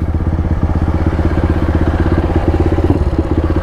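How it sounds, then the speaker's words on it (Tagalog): A motorcycle engine idles loud and close, a steady rapid chugging pulse of exhaust beats with slight rattle, continuous and without talk. "Hindi ko muna to papatayin motor ko"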